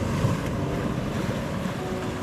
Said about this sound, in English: Surrounded by breaking waves at the moment